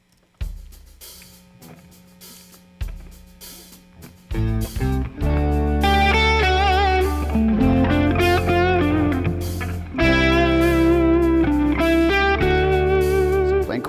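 Electric guitar, amplified with some drive, plays a chord-tone soloing lick: a quiet, sparse opening, then from about four seconds a loud, sustained run of bent and held melodic notes over steady tone, no talking.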